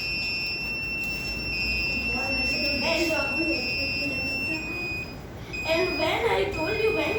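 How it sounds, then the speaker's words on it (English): A buzzer on a student-built project car's obstacle sensor sounds with steady high-pitched tones that break off and restart, heard at an event presentation beneath a person talking and crowd chatter. "When it will come back and send something, then this buzzer is buzzing."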